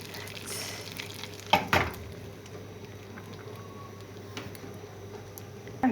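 Fresh mint tipped into a pot of Turkish soup on the stove, giving a faint sizzle and a couple of sharp stirring clinks against the pot, with a steady low kitchen hum underneath.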